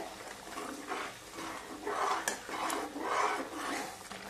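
A spoon stirs boiled water into a vegetable dish in a pan in a home kitchen, making soft, faint, repeated scraping and sloshing rubs against the metal in a slow rhythm, with no talking.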